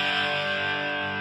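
Electric guitar played through a PettyJohn Iron Overdrive pedal, a sustained mildly distorted chord ringing out loud and alone with a rich harmonic buzz, decaying only slightly.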